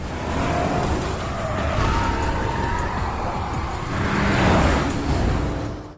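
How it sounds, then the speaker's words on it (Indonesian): Car engines roar at speed during a chase, a steady broadband drone with two swelling pass-bys, no voices. "ketika dia melaju dengan kencang, mobil itu terus mengejarnya sehingga adegan kejar-kejaran pun terjadi"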